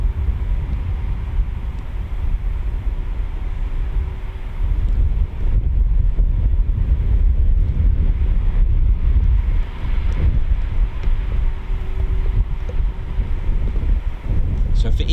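Steady wind buffeting a microphone outdoors at RAF Coningsby on a breezy morning, a loud, continuous low rumble that rises and falls in gusts, with faint speech underneath.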